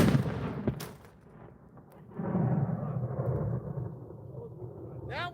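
An ANFO explosive charge goes off from a distance as a weak, low-order detonation. A dull thump is followed by a low rumble, and people's voices are heard afterward.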